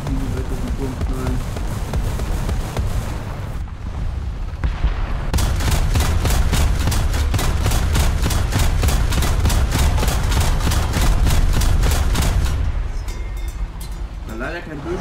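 Tank gunfire in the War Thunder video game, from a Puma VJTF: a loud, sustained burst of rapid automatic shots lasting about seven seconds over a dense rumbling background.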